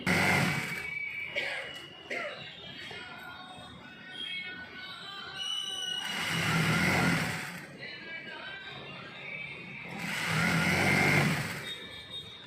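An electric sewing machine stitches cloth for a tailored garment in two loud whirring bursts of rapid needle rhythm, separated by quieter stretches where a voice talks over faint handling.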